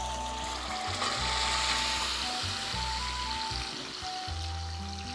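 Tomatoes dropped into hot rendered fat in a pan, sizzling with a loud, steady, close hiss and crackle, accompanied by faint background tones.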